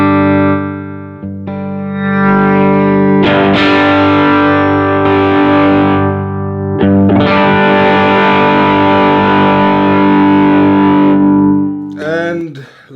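An electric guitar played through a Chase Bliss Brothers AM overdrive pedal set to gain mode, with loud sustained distorted chords that ring out, a short break near the middle, then a final bent, wavering note.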